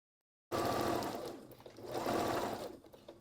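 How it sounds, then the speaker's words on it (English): A sewing machine stitches a seam on a pencil skirt, running in a fast steady whir that starts abruptly, eases briefly and then surges again. "That way you can sew right up to them."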